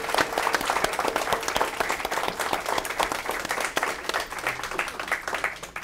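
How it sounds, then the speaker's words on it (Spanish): An audience applauds the guest at a university tribute event during Panamanian Literature Week, giving sustained, even clapping from many hands throughout, with a faint murmur of voices underneath. "por favor pido un aplauso del público para nuestra invitada de hoy"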